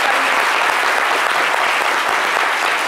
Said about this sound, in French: Avec des applaudissements, nous allons les rappeler.